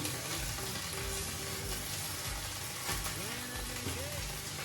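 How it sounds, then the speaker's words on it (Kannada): Ginger garlic paste fries in hot oil for a village-style chicken curry, giving a steady close sizzle with scraping stirring strokes throughout, and a faint voice briefly surfaces near the end. "ಶುಂಠಿ ಬೆಳ್ಳುಳ್ಳಿ ಪೇಸ್ಟು ವಾಸನೆ ಹೋಗೋವರೆಗೂ ಚೆನ್ನಾಗಿ ಮಿಕ್ಸ್ ಮಾಡಬೇಕು"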